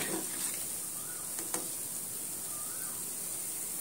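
Dal pakoras fry in oil while being turned with a spatula, giving a faint, steady sizzle with a couple of soft scraping clicks, quiet and unaccompanied by talk.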